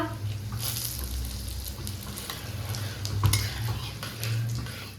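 Panch phoron, bay leaves and dried red chillies sizzle in hot oil in a kadai, a steady crackling fry with occasional spoon scrapes against the pan.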